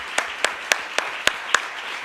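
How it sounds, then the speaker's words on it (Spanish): An audience at a pastors' and ministers' training event claps in a short burst, with about six distinct claps at an even pace over a light background of crowd noise. "Eso merecía un aplauso"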